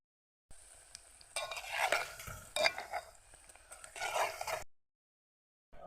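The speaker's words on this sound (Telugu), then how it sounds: "ఒక రకంగా మీడియంగా వేయించుకోవాలి, లేకుంటే ఎర్రగడ్డలు మాడిపోతాయి" Onions frying in a pan for egg curry, a close soft sizzle broken by several scraping stir strokes in bursts, with brief silence at the start and end.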